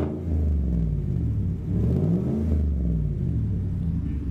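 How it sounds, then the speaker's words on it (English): A 2017 GMC truck with no muffler fitted revs its engine twice, the raw exhaust roaring up and falling back in close, loud swells over a steady idle rumble. "he has no muffler on it right now, so Steven's going to jump in and give us a quick rev"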